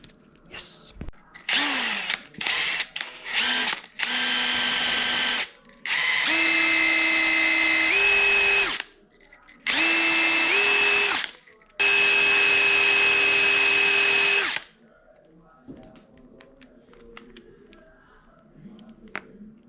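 A power drill works on a rusty bolt on a riding lawn mower, several loud bursts of whirring with rising pitch steps and short pauses between, then quiet handling noises.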